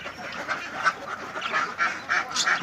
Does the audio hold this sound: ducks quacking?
yes